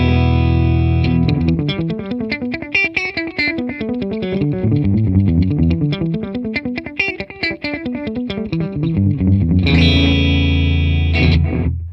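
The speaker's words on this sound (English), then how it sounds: "what you're going to hear is my original guitar sound and a single delay" Distorted electric guitar through a single delay from a Boss DM-2W Waza Craft pedal plays a fast arpeggiated run, each note followed by a soft repeating echo, loud and continuous, ending on a sustained chord.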